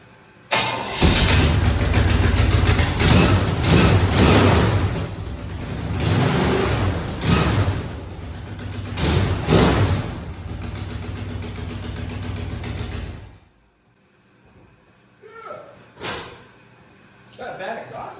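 A 1982 Chevy Blazer engine cranks, fires and settles into a loud, rough idle with a leaky exhaust chuffing, running for about thirteen seconds before cutting off, leaving scattered knocks and brief sounds.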